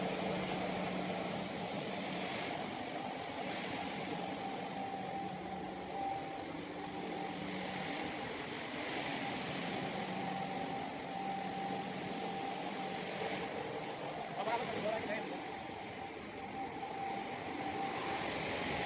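A motor drives a granite tile machine with a steady, moderately faint hum and a sustained tonal whine, with mild fluctuations throughout and no talking.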